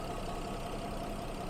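A Porsche Cayenne 958.2 with a 3.6-liter VR6 engine idling smoothly, a faint, steady low hum with no other sounds.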